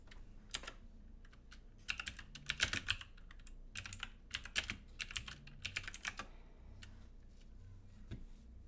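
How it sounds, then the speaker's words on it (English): ASMR-style typing on a computer keyboard: bursts of quick, crisp key clicks come in uneven clusters with short pauses between them, close and fairly quiet over a soft background, and nobody talks. "We're doing some ASMR keyboard clicking."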